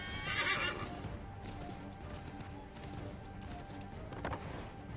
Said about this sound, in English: Sorry, the horse wasn't fucking moving.